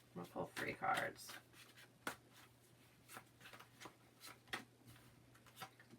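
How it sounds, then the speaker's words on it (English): Tarot cards pulled from a deck, with soft, close, scraping slides and light flicks in irregular bursts under quiet talk. "I'm going to pull 3 cards."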